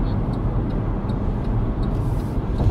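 Steady, loud interior rumble of a car accelerating on a highway toward an exit, a continuous low drone with road and engine noise throughout.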